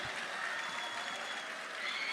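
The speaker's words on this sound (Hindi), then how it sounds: "आप जोरदार तालियों से इस्तकबाल कीजिए" An audience at a mushaira poetry gathering claps in a steady, even patter that holds through the moment without a break and with no voices on top.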